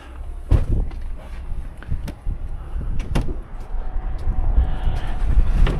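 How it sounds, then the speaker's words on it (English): Gusty wind roars and rumbles steadily outdoors, broken by a few sharp knocks and clatters. "Whooshy windy out here today."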